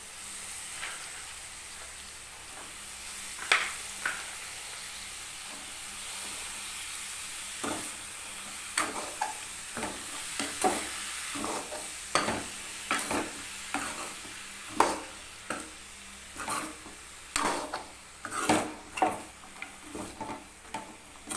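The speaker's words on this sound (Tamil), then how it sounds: "நல்லா கிளறி விட்டுக்குங்க கிளறி விட்டு கொஞ்ச நேரம் அப்படியே விட்டுறலாம் வதங்கட்டும்" Salted pumpkin pieces fry in a pan under a steady soft sizzle, punctuated by irregular scraping clicks of a spoon stirring that grow busier toward the end, with no talking.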